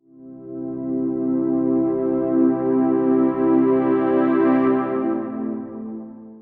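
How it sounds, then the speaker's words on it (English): A light, airy synth pad from the Pigments software synthesizer swells in softly and holds sustained chords of a progression, smooth and steady for several seconds before fading out. "So I use pigments for my light synth and it sounds like this."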